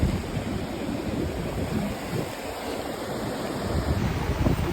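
Surf washes steadily onto a beach at Arambol, Goa, a continuous broad roar of breaking waves with some wind buffeting the microphone and no voices.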